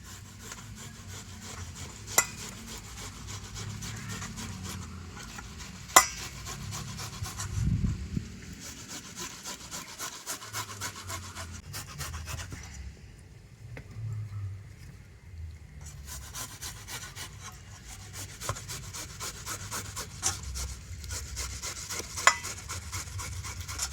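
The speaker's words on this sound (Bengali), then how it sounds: "আর এই তরমুজগুলো এখন আমি গ্রেটার দিয়ে গ্রেট করে নেব।" Watermelon being grated by hand on a grater, a steady rhythmic wet rasping of repeated strokes, close and moderately quiet, continuing throughout with a brief pause midway.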